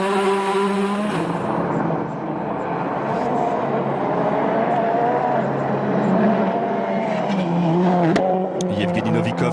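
A Volkswagen Polo rally car slides under braking on a Monte Carlo Rally stage, its engine roaring loudly and continuously throughout, with a commentator speaking over it.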